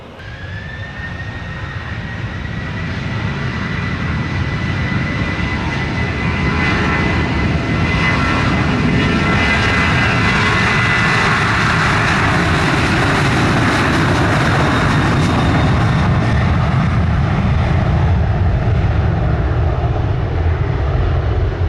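A jet airliner powering up for takeoff on runway 25 at Montego Bay, Jamaica, its engine roar swelling over the first few seconds into a loud, sustained rumble with a thin whine on top, then holding strong as it rolls away.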